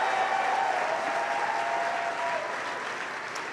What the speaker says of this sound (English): Please give my life partner a round of applause.